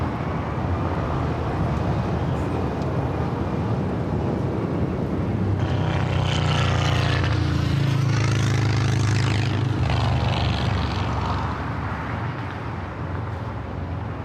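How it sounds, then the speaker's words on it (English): Flight 8014, carrying the Los Angeles Dodgers, arrives at LAX with a steady jet rumble that swells midway as the aircraft passes closer, then eases back toward a distant roar. "Flight 8014 carrying the Los Angeles Dodgers back here to Los Angeles."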